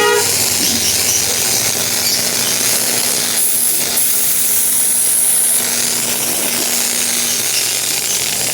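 A carwash vending machine's foam pump runs with a loud, steady mechanical drone that holds unbroken throughout, with no voices.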